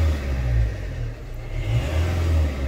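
A Fiat 500L engine revs up and down during servicing, its low throaty rumble swelling and easing in several close, loud surges with no voices.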